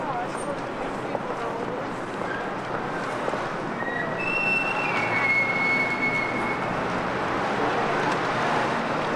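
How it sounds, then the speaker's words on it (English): A subway train rumbles low beneath a city waking in the morning, with brief metallic wheel squeals rising midway and a murmur of voices over the top. "And underneath it all, you can hear the rumble of the subway."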